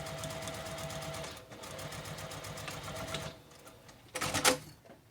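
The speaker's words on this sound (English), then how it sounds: "you're going to go to your sewing machine and you're going to sew starting at the top and go all the way across" A sewing machine stitches pieces of fabric together in a fast, steady mechanical whir of rapid needle strokes. It pauses briefly, runs again, then stops with a few handling clunks near the end.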